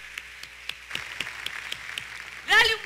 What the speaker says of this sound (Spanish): vamos a darles todos un fuerte aplauso entonces de bienvenida